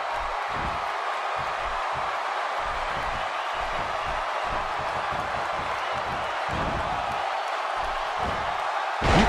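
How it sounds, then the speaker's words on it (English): A large wrestling arena crowd in WWE 2K16 roars continuously, a dense, loud wash of cheering punctuated by rhythmic thuds of the ring action. "Listen to this crowd."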